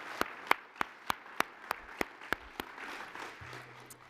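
A few people clapping at an alumni awards ceremony, with sharp, distinct claps in a steady rhythm for about two and a half seconds before they trail off.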